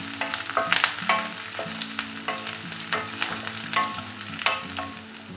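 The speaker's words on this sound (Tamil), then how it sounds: "கேஷ்யூ நட் எல்லாத்தையும் கிளறிக்கலாம். எல்லாமே லைட்டாக ஃப்ரை ஆகணும்." Cashew nuts sizzle gently as they fry in a pan, with repeated scraping and clinking from stirring in an irregular rhythm, close and moderately loud, with no talking.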